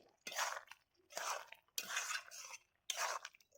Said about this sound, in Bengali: আর মিল্ক কেক দিচ্ছি একশো গ্রাম ভালো করে এবার নাড়াচাড়া করে নিচ্ছি